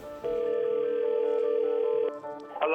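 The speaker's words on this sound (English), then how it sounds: "Let's get Wan'Dale Robinson on the phone from Kentucky." A telephone dial tone sounds as a phone call is placed, a steady tone of about two seconds that cuts off, followed by a brief higher tone.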